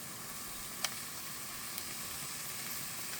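Cuttlefish fries in a pan with a soft, even sizzle, fairly quiet and constant, broken by one small pop near the start.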